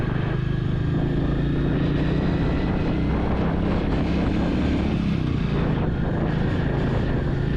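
A Royal Enfield Meteor 350 motorcycle engine drones steadily while riding at a good rpm, a continuous low rumble with wind noise, loud and close, with no talking.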